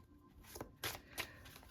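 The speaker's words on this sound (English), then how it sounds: "I'm gonna shuffle some tarot cards" Tarot cards are shuffled in a few quick, papery riffles and slaps, close and soft, with short gaps between bursts and no talking.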